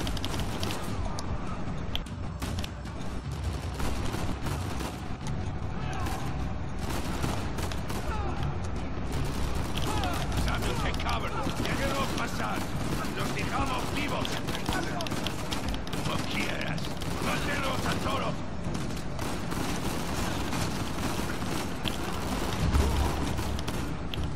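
Rapid bursts of gunfire in the video game Uncharted 4: A Thief's End crackle almost nonstop, dense and loud, with people talking over the shooting.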